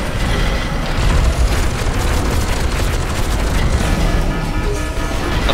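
In the F.E.A.R. 2 video game, rocket explosions and combat make a loud, continuous rumbling roar with dense booming impacts throughout, no distinct gaps between blasts.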